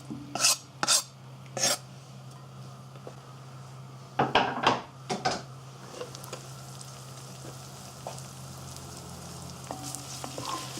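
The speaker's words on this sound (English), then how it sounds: "Give that a little bit of a stir" A chilli and garlic mix frying in a good glug of oil in a large pan, softly sizzling throughout while a utensil knocks and scrapes the pan in a few brief bursts, close by with no talking.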